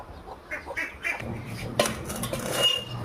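Ducks quack in short bursts while being fed a mix of rice and rice-bran mash, with light clinks like dishes or a pot nearby and a rising, busy texture in the second half.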